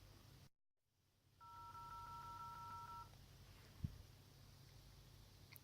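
Telephone being dialed for a call, a single steady two-tone dialing beep lasting under two seconds in a quiet room, followed by a soft click.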